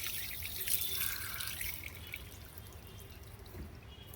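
Water poured during a temple abhishekam ritual splashes and dribbles steadily at a moderate distance, with faint drips and a soft background hum.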